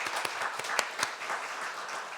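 A church congregation applauds after a youth group's worship singing at a Friday evening prayer service: brisk, dense clapping from a crowd with a few sharper individual claps, steady and moderately loud for a couple of seconds.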